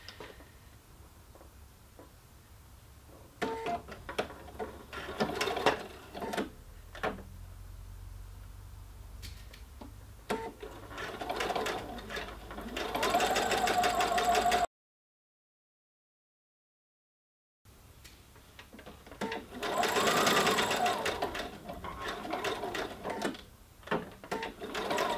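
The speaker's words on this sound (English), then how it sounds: "I'm just going to stitch this together first, and then I'm going to apply my binding afterwards." A sewing machine stitches a narrow seam on a fabric-covered shoulder pad. It runs in short bursts of rapid whirring, then a brief silence, then another burst.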